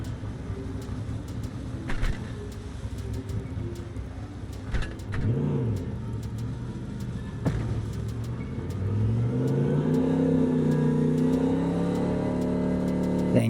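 A busted-up, rough-running car engine in Cyberpunk 2077 idles and then revs, with rising and falling engine tones and a few sharp clicks, growing louder and more sustained toward the end.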